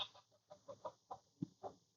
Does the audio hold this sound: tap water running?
no